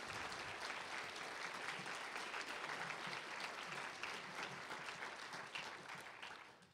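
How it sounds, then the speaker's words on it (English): An audience at a keynote applauds in a dense, sustained wash of clapping that holds steady for several seconds and then begins to fade near the end. "I just would like to applaud you right now"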